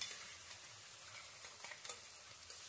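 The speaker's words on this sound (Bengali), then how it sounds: "তো এই মশলাটা আমরা এখন দিয়ে দিচ্ছি তেলের মধ্যে।" Ground paste of cumin, coriander, dried chilli, ginger, garlic and black pepper frying in oil for a Bengali vegetable chicken curry, a steady soft sizzle with faint stirring scrapes and a sharper crackle at the end.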